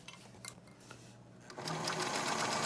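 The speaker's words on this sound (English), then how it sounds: "you just sew along the line" A home sewing machine runs in a quick burst, stitching lines across a quilted bowl cozy; the motor whirs faintly, then grows louder and steady toward the end, close by and with no talking.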